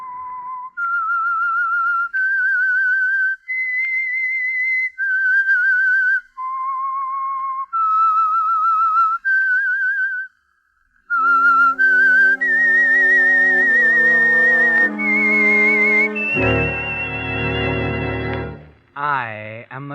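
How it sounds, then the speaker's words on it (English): A whistled theme melody signals the mystery radio program, a clear solo tune of sustained pitched notes gliding between steps, followed by a swelling orchestral passage that builds loudly before cutting off. "That whistle is your signal for the Signal Oil Program,"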